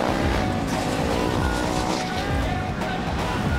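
Race engines roar steadily and loudly through a last lap of a 2014 Yamaha GP 115 super stock automatic motorcycle race, a dense continuous drone with faint tyre noise and no break.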